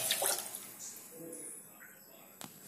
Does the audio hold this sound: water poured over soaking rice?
yes